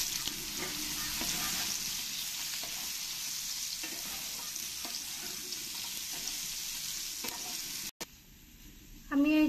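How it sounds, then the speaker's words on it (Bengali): Sliced ridge gourd frying in a pan, a steady loud sizzle with occasional stirring scrapes that stops abruptly near the end. "এই ঝিঙেগুলো একটু ভালো করে একটু ভেজে নেব।"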